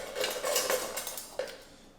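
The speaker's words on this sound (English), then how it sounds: "it's a spoon, butter knife, and a fork." Camping silverware, a spoon, butter knife and fork, clinks and rattles together for about two seconds, with a sharper metallic tap near the end, close and moderately loud with no talking.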